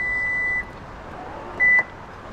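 Lexus power back door sounds two electronic beeps while closing, a longer tone followed about a second later by a shorter, louder one, clear over faint background hiss.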